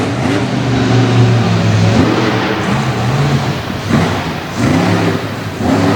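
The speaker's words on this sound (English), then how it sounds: "Truck seems to be running the best it's run in a long time" Monster truck Storm Damage revving hard during a freestyle run at Monsters of Destruction in Du Quoin, Illinois, with repeated loud engine surges rising and dropping, heard from the arena.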